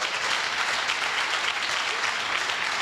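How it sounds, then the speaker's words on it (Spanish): A church congregation claps steadily and densely in worship during a sermon, a continuous close wash of applause filling the whole stretch without a break. "Dale un aplauso al que vive y reina."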